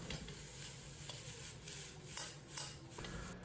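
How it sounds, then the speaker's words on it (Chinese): Beef is stir-fried in a wok over caramelized rock sugar syrup, giving a steady close sizzle with repeated scraping and tossing strokes of a spatula against the metal. "快速翻炒均匀"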